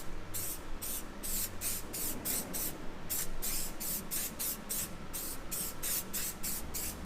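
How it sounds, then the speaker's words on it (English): Repeated short bursts of aerosol spray hiss onto carbon parts for a Mk5 Volkswagen Golf GTI, close and loud in a quick, regular on-off rhythm. "We're just going to put this spray on it."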